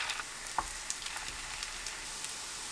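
Tofu and beet pancake batter sizzles steadily in an oiled frying pan over medium heat, with a soft, continuous crackle and a few small pops, fairly quiet and without talk.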